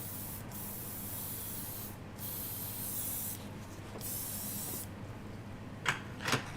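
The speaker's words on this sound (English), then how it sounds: "give it a little test spray" An airbrush gives a short test spray of flame-coloured paint in a woodturning workshop: a soft steady hiss with brief bursts of airflow, then two sharper puffs near the end, close and fairly quiet.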